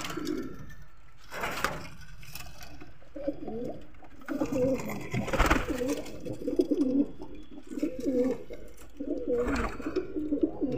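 Pigeons coo steadily in a loft in India, soft rounded calls repeating in low pulsing phrases, fairly close, with occasional louder rustling or flapping bursts between them.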